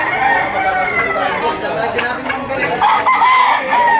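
Roosters and chickens at a poultry market in Lipa, Batangas, with loud crowing and clucking from several birds close by, overlapping with chatter from people nearby.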